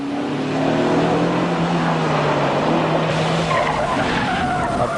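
A Renault Clio 16S lapping the Montlhéry road circuit, its engine note droning steadily while tyres squeal and skid through corners, loud and close with no talk.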